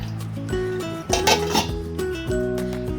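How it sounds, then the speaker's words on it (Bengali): A metal lid goes onto a cooking pot while semolina dhokla steams inside: several close clinks and a louder clattering clang as it settles, then softer ringing taps, with no talking. "এবার আমি ঢাকা দিয়ে দেবো"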